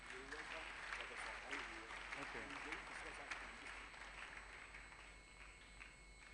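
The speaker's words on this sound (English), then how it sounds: "another round of applause for him." A crowd at a diocesan anniversary celebration gives a fairly faint but sustained round of applause, a steady wash of clapping that blends with voices in a large gathering.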